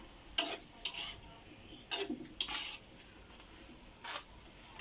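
Stink beans with fresh shrimp being stir-fried in a pan: soft background sizzle with a handful of distinct spatula scrapes and clinks against the pan, spaced irregularly and fairly quiet.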